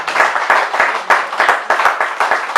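A church congregation claps together in a strong, even rhythm, loud and close, roughly three beats per second, during a French-language sermon on praising the Lord.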